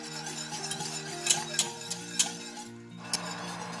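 A spoon stirs a Thai coconut jelly dessert mixture in a pot on the stove, giving a few soft scraping taps against the pot over steady background hum.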